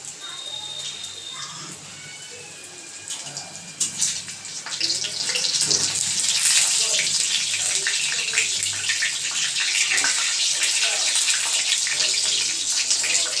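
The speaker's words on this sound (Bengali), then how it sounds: "একে একে মা ফিশ ফিঙ্গারগুলো ছেড়ে দিচ্ছে, মানে কোটিং করা মাছগুলো।" Coated vetki fish fingers are lowered into hot oil for a restaurant-style Bengali fish fry, bursting into a loud, close, continuous sizzle and crackle that swells after a few seconds and stays strong.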